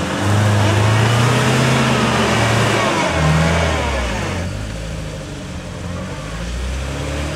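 An off-road rally car engine revs hard and loud at a 2012 Verstа-Trophy race near Khvalynsk, the roar steady and close before easing slightly into a lower, rumbling drone.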